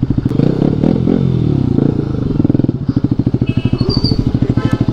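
A Pulsar RS 200 motorcycle fitted with a loud aftermarket exhaust revs hard, first a roaring burst, then settling into a rapid, crackling staccato idle pulse, very loud and close, with no talk.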